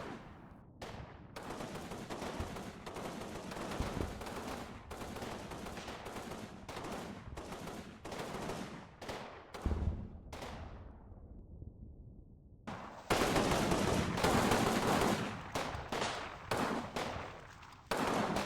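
Rifle and machine-gun fire from a video-game battle in a forest with hedges: rapid shots and bursts, mostly close, with a brief lull before a louder sustained volley near the end.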